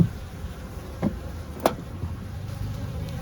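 Honeybees droning steadily around an opened beehive at a bee yard, a continuous close hum with a few louder buzzes as individual bees pass near, no talking.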